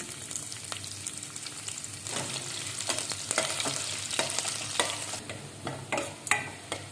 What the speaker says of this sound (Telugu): ఒక ఆనియన్ని చిన్న చిన్నగా కట్ చేసి వేసుకుందాం.